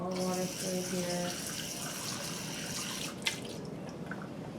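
Water runs through a laboratory filter while a precipitate from a benzaldehyde oxidation is rinsed, a soft steady trickle and splash heard close and faint, with a brief tap near the end.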